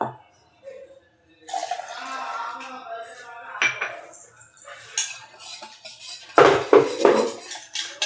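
A spoon stirs a cornflour and water mixture in a bowl, giving intermittent clinks and scrapes. The sounds are close, with a sharp knock midway and a louder clatter near the end, and a voice talks over part of it.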